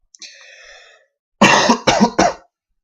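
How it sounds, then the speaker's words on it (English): Three sharp, close coughs in quick succession from one person, following a brief stretch of faint tonal background sound, with no speech. "I got a bit of a cough."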